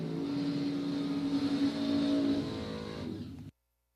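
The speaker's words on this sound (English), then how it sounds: "he got it fired up, and he's driving it on down" Drag racing car at a dragway fired up and driving away down the track, a steady engine drone that swells slightly and then fades into the distance before cutting to silence.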